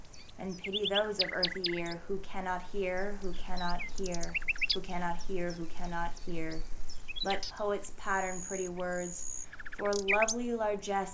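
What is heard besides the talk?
birds singing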